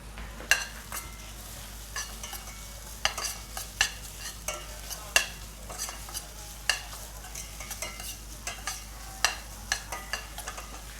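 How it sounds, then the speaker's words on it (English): Onion and spices are sautéed in a pan by a restaurant chef at a food event. A spoon scrapes and stirs in repeated sharp strokes over a faint, steady sizzle, with no talk. "we have to saute all the ingredients for a few 1 to 2 minutes until onion gets soft and slightly brown in color"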